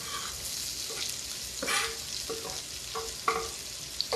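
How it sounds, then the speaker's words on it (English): Onion and garlic fry in an unwashed skillet used for chicken parmesan, a soft continuous sizzle with occasional light stirring scrapes and a couple of small clicks, fairly quiet and without talk. "Just in with the onion and the garlic."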